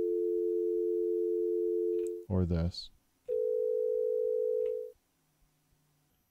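A sine wave tone resembling a landline dial tone, generated by the Teensy audio library on a DIY 3D-printed MIDI keyboard, sounds in two steady sustained stretches broken by a short spoken phrase, then stops.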